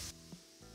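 Cherry tomatoes hit melted butter in a hot pan, giving a sharp burst of sizzle that drops quickly to a soft crackle, then swells slightly again; quiet and close, no voices.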